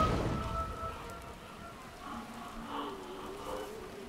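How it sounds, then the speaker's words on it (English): A rain water effect in Borderlands 2 patters steadily as a soft, continuous rain-like hiss with scattered droplet sounds, at moderate volume and without speech. "the water effect is pretty cool. It's like raining, but it's not raining to me."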